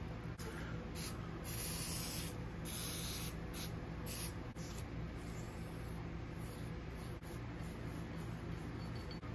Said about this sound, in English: we'll send a little shot of oil down there just for a little coating